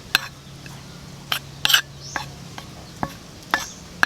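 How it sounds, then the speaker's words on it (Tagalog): Chicken soaking in a marinade with chili flakes and cornstarch is stirred in a bowl, giving a few short, separate wet scrapes and soft clinks close by, with no talk. "Haluin na po natin."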